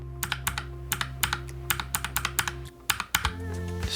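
Keys on a NuPhy Air75 mechanical keyboard are typed in quick, close clacking bursts, with red, brown and blue switches compared one after another, the last run sounding sharper and clickier.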